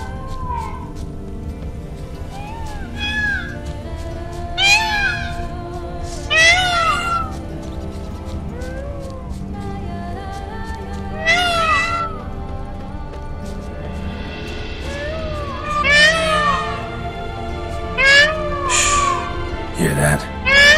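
Creatures in The Witcher 3: Blood and Wine call back and forth with repeated rising, meow-like cries over a low ambient bed, several calls spread across the scene, some louder and nearer than others.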